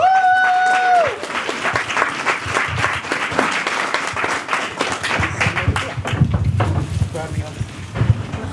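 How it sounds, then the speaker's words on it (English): An audience applauds at a yoga and astrology talk, a dense wash of clapping that follows a brief voice at the start and carries on steadily for several seconds. "Please give a round of applause for Nai-Davina."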